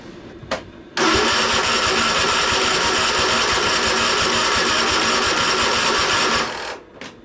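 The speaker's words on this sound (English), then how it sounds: "So a lot of cranking, the thing wouldn't run right." A Cub Cadet Super LT 1550 tractor that has trouble running cranks with a brief start at first, then a long, loud, steady churning whir that cuts off near the end, close by.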